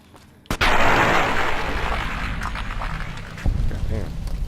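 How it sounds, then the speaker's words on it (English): Gunfire in Fallout New Vegas: a loud blast opens with a long rumbling decay, and a second, smaller shot comes near the end, both over steady game background. "What the fuck is he shooting at?"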